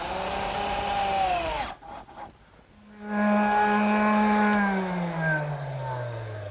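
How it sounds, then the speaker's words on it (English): A power driver sinks 1 1/4 inch screws through a wooden tea table base into its top, a steady whining motor run that slows and drops in pitch, a pause, then a second long driving burst. "fasten it with some 1 1/4 inch screws"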